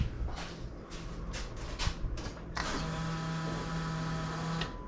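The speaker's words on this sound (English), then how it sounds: "Fuel pump noises. I love that." A car fuel pump running, a steady close electric whine and hum that starts after a few scattered clicks and thumps, holds constant for a couple of seconds and then cuts off.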